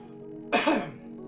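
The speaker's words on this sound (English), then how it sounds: "I thought I had this cough licked, but it seems to, like, just come back just a little bit." One short, sharp cough from a man, close and loud, over a steady low background hum.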